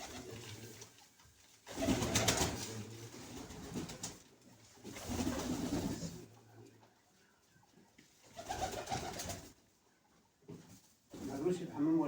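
Pigeons coo in low, repeated bursts, close by, with voices talking over and between the calls.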